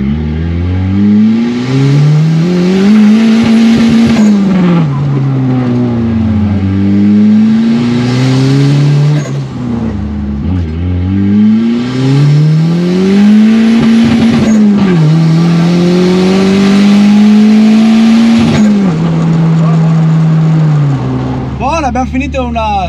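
A turbocharged K24 engine swapped into a BMW E36 revs loudly and repeatedly, climbing and falling in long sweeping pulls up close during a hot tuning session, with a short burst of higher whine at the end.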